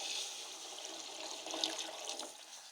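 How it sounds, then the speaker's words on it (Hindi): Water poured into a pot of soaked rice for matar pulao, a steady close gush that continues throughout. "अभी इस मौके पर हमें पानी डाल देना है।"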